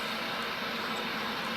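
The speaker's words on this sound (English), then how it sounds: "Those engines don't look too good." A CRJ 700 jet waits for takeoff clearance at the Saint Barthélemy runway, its engines giving a steady, broad, unbroken roar heard from a distance.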